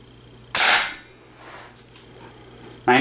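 A .25 caliber Airforce Condor air rifle fires a 43 grain pellet with its power wheel turned all the way up: one loud, sharp, close crack that fades quickly, followed near the end by the start of another report.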